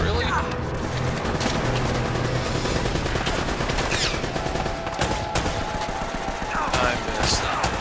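Rapid gunfire from the video game Uncharted: Drake's Fortune crackles in dense, overlapping bursts across the whole stretch, with game effects and a voice talking over the shooting throughout.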